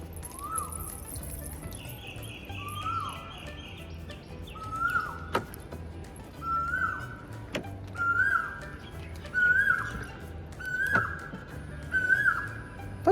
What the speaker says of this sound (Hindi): पक्षियों की आवाज़ सुनाई दे रही